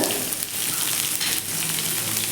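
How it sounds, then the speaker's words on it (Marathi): Finely chopped onion with a pinch of asafoetida sautéing in oil in a pan over medium heat, a loud, steady, close sizzle with slight stirring and no voices. "आपण कांदा आपला तांबूस रंगावर येईपर्यंत परतून घेऊयात"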